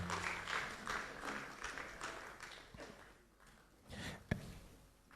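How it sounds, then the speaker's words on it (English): Audience applause at a presentation event of the Ghana Federation of Disability, a sustained wash of clapping that fades gradually over several seconds, with a few sharper claps near the end. "Can we please give her a round of applause?"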